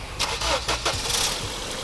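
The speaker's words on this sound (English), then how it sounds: "start the engine of the dead car" A car engine with a dead battery cranks in a few quick rhythmic bursts during a jump start, then catches and settles into a steady idle close by.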